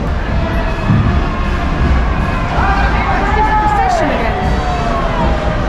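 Dense crowd babble fills a town square during a Spanish fiesta, a steady loud hubbub of many voices with occasional shouts rising above it.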